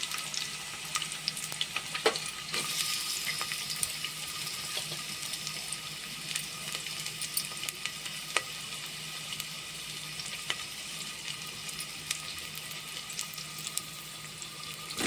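Onions frying in hot oil for mutton curry make a continuous close sizzle, dotted with small crackles and pops, with no voices.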